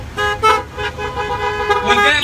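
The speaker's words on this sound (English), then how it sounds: "when I would hear somebody honk their horn" A car horn honks a few times in short bursts over street noise, with voices talking in the background.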